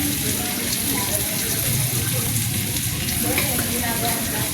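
Tomatoes fry in a pan for ginisang kalabasa, a dense, loud, steady sizzle filling the whole stretch without pause, with faint speech mixed into the background.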